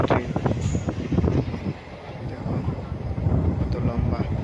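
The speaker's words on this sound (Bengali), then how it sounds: "তো এটা হলো আমাদের ট্রেন" A passenger train in India, on the way to Kamakhya temple, runs on rails through grassland with a steady, close low rumble and wind buffeting. A voice talks over it throughout.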